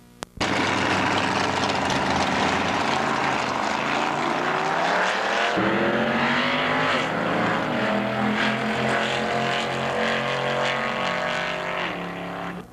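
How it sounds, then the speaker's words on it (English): Drag racing cars, including a yellow Capri, roar loudly and continuously at full throttle down the strip in 1997, the engine pitch sweeping upward as they accelerate and fading slightly at the end, with no talking. "You just saw the last race of round number 3 as Gary Dix in the yellow Capri"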